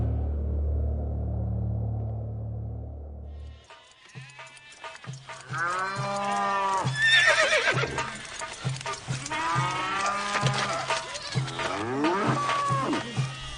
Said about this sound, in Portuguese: Os egípcios levaram a José cavalos, ovelhas, cabras, bois e jumentos